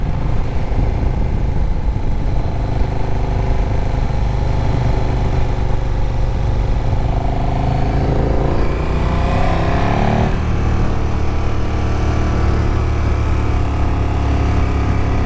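A 2018 KTM Super Duke GT motorcycle is ridden at speed. Its engine roar is loud and continuous over heavy wind noise, with a rising then falling pitch sweep as the rider shifts mid-ride.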